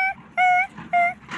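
A dog lets out three short, high-pitched whimpering yips in quick succession, close and clear.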